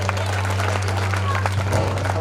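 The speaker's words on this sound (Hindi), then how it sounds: "जोरदार ताली बजाइए" An audience applauds during a stage performance, with a dense, steady wash of clapping over a constant low hum and voices mixed in.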